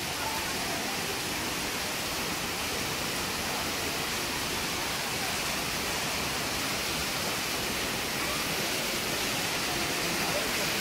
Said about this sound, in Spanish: Con estos escurrimientos de agua